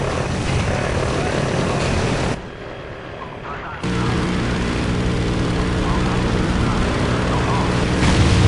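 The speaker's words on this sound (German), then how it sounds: "Soll ich die AC-Drohne vom Support?" An AC drone aircraft in the video game Call of Duty: Ghosts roars with a loud, dense propeller-engine drone that dips briefly and then resumes at full strength, while voices speak underneath.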